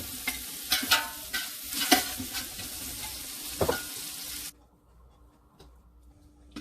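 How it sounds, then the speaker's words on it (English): Sausages browning in oil in a pot for a chicken and seafood gumbo, giving a steady crackling sizzle with sharp spatters and stirring scrapes, then dropping abruptly to near silence partway through. "let it brown a little bit"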